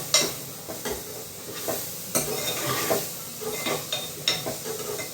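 Tomatoes being sautéed in a pan for bitter gourd curry give a soft, steady sizzle, broken by a series of scraping stirs at close range, with no talking.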